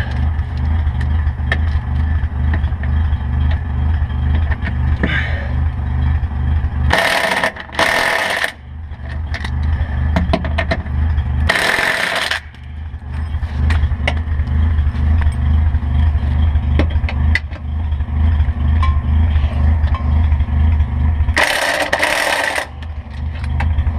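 A Mazda RX-7 engine running steadily, a low droning hum with a continuous mechanical buzz, broken by several short loud bursts of broadband noise, heard close and without talk.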